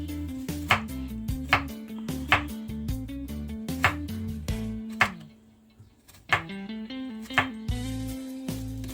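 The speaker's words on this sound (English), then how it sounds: "she's cutting up the garlic for the saltfish and kale" A knife chops garlic on a board for saltfish and kale, sharp regular taps in quick succession, close and clear, with a brief pause midway before the chopping resumes.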